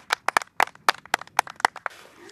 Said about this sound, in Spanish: El aplauso de todos los chicos.